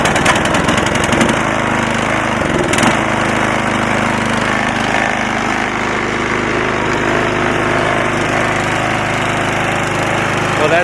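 A Cub Cadet 5 24 snowblower engine starting from cold outdoors, running loud and close with a steady continuous drone and a brief irregular stutter early on, no voices.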